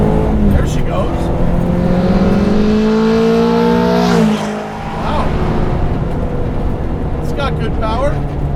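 A Honda Civic EG hatch with a K24 engine swap and 2.5-inch exhaust accelerates hard, its loud engine note climbing steadily in pitch, dropping at a shift, then pulling again close by as a voice talks over it.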